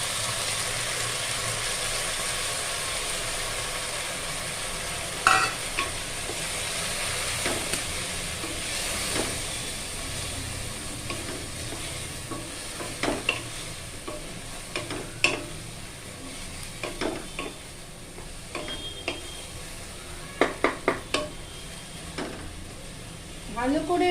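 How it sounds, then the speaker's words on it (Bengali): Soaked moong dal and vegetables frying together in a pan for chira khichuri, with a low continuous sizzle and scattered clinks and scrapes of a stirring spoon, moderately close. "ভালো করে ডাল আর সবজিটা একসাথে ভেজে নেব।"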